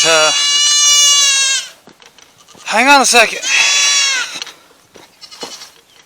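Goats and sheep bleat loudly and close by in long wavering calls, one after another, with someone speaking briefly between them.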